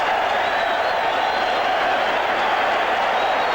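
Crowd of about 17,000 at a heavyweight boxing match at Madison Square Garden, Ron Lyle against Jerry Quarry in 1973, roaring as a continuous loud, dense wall of noise.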